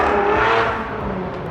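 A car with a straight-piped Nissan VQ engine revs as it passes, a loud raspy exhaust note that swells and then fades as it moves away.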